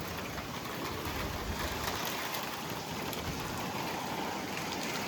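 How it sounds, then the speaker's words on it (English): Heavy rain pours down during a severe thunderstorm with winds over 60 mph, a dense, continuous hiss that stays loud and even throughout with no voices. "Now it's pouring down again."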